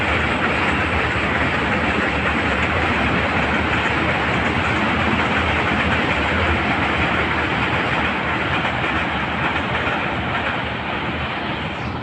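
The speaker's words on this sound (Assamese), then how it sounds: "ট্ৰেইনখনক বিদায় দিলোঁ" A train rolls past at close range, a loud continuous rumble and rattle of wheels and cars that stays heavy and steady throughout with no voices.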